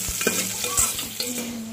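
Curry leaves and onions frying in a pan, a steady close hiss of sizzling oil with a few soft stirring scrapes and crackles.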